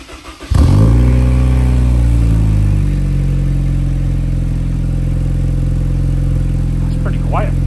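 A Honda Civic FL5 Type R with full bolt-ons cranks and fires after a short pause, then settles into a loud, close, steady idle with a deep drone that holds to the end.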